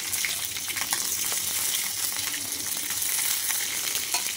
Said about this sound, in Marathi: तेल गरम झालेले आहे, आता आपण टाकूया राई, जिरे, लसूण,